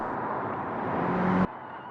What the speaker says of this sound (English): Now listen to that Boxer engine absolutely screaming.